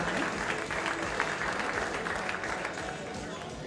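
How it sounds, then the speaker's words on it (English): Audience at a startup meetup applauding a prize winner, a dense burst of clapping from a crowd that fills the moment and tapers slightly at the end, with voices mixed in. "Can we give her some applause, please?"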